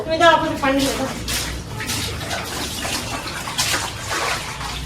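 Water splashes and washes across a balcony floor in a steady, close rushing wash, with a voice talking over it throughout.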